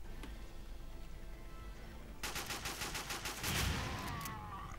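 Rapid bursts of shotgun fire in a James Bond Quantum of Solace video game break out after a quiet stretch, a dense volley of shots followed by a louder blast, distant and muffled.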